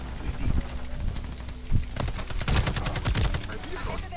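Bursts of automatic gunfire and single shots in Call of Duty: Modern Warfare 3, irregular cracks and rattles over a busy game mix, loud and close.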